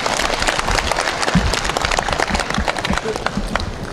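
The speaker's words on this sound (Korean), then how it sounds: "서로 간에 박수를 한번 부탁드리겠습니다." Audience applause at a fishing-families unity event for glass-eel fishers in Sinan County, a dense, steady wash of many hands clapping throughout, close and loud, filling the room without pause.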